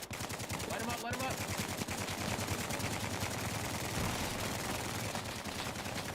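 Sustained rapid gunfire rattles through a firefight in the video game Bellum TWS, with automatic bursts overlapping almost without pause. Voices talk underneath the shooting.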